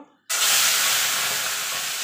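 Salted, turmeric-coated shrimp drop into hot oil with a sudden loud burst of sizzling that holds steady and bright, close by and alone.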